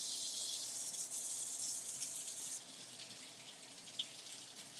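Cold water runs from a kitchen tap in a steady, close hiss that drops to a softer flow partway through, with no talking.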